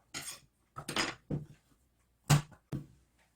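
Knife chopping the stem ends off cucumbers on a cutting board, five sharp separate cuts in a quiet kitchen, crisp and close.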